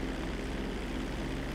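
A propeller airplane engine in a video game drones steadily and continuously at moderate level, a broad even hum with no talk over it.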